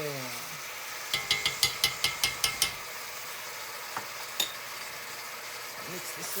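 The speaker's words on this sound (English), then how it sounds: "Mix this up." A spoon scrapes and knocks in a pot of seafood gumbo, a quick run of about eight rhythmic clicks followed by a couple of isolated taps over a low background hiss.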